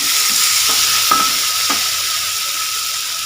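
Sambal paste sizzles and fries in a pan with cooked onion and lemongrass while it is stirred, a steady loud hiss with a few soft scraping strokes early on and no talk.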